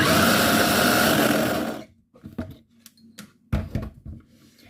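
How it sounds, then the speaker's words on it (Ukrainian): Electric chopper whirring loudly as it grinds basil leaves with walnuts and parmesan for pesto, a steady close buzz for nearly two seconds, then stopping and followed by clunks and knocks of handling. "Ось тепер додаємо сюди листя базиліка. І все подрібнюємо."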